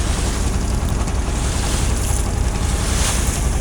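Waves washing on river water near trawlers and boats: a loud, continuous rushing wash mixed with wind buffeting the microphone, with no voices.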